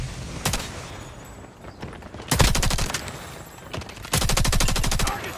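Rapid bursts of shotgun and automatic gunfire in the mobile shooter game Call of Duty Mobile, several sharp volleys of varying loudness separated by short gaps.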